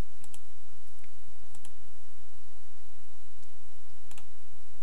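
Computer mouse clicks tap out under a low steady hum, a few sharp isolated clicks spread across the stretch, close and fairly quiet with no talking.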